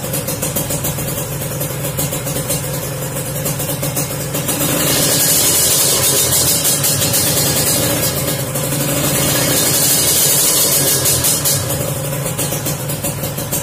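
A Kawasaki Ninja R two-stroke motorcycle engine, with all three exhaust ports of its power valve open, revs up and holds a louder, higher-pitched whine, then eases back and revs again, close and loud with a rattly buzz.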